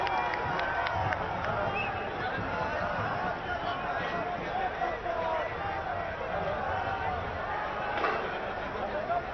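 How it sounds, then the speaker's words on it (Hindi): A crowd at an Uttarakhand political gathering claps and cheers for Trivendra Singh Rawat, a dense continuous wash of applause mixed with chatter and shouting voices. "हमारे मध्य त्रिवेंद्र सिंह रावत जी पधार चुके हैं। जोरदार तालियों से स्वागत।"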